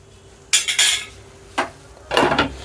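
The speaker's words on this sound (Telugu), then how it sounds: "ఇవి మధ్య మధ్యలో కలుపుతూ ఉండాలి, లేదంటే అడుగు అంటేస్తుంది." A utensil stirs tomato coriander chutney in a pan, giving a few loud, close metallic scrapes and clatters in separate bursts, with quiet pauses between them.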